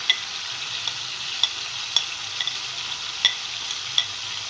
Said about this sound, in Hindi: तो अब मैं इसमें डाल रही हूँ हाफ़ टी स्पून कुटी हुई लाल मिर्च